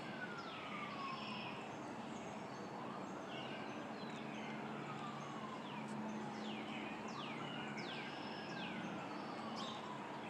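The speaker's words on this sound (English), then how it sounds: "we've got sirens in the background, and we've been having quite a few sirens" Sirens wail in the background, rising and falling in long slow sweeps, with fainter chirps and whoops and steady traffic noise underneath, distant and continuous.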